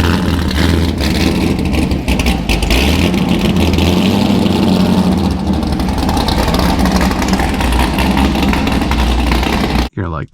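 A Corvette C6 Z06 with a lopey cam idles loudly and close in a deep, choppy, uneven burble that continues throughout before cutting off abruptly near the end.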